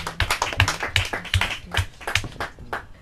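Audience clapping for contestants at a Portuguese-language quiz final, a loose burst of hand claps with sharp, uneven strikes that thin out toward the end, fairly close and alone without talk.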